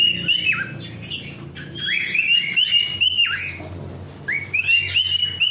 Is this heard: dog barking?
no